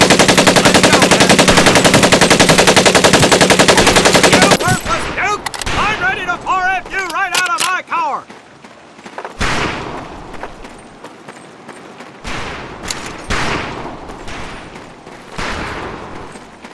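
Heavy weapons fire at a boot camp in Medal of Honor Pacific Assault: a continuous loud machine-gun burst, then scattered single and short-burst shots with sharp echoing cracks, and a voice talking between shots.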